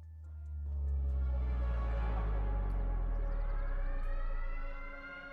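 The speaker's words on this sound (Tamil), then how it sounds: "சைரன் அடிக்குது." A wailing siren rises and holds over a deep rumbling bed during the Fortnite Remix Finale live event in the video game, loud and sustained for several seconds with harmonic tones sweeping upward.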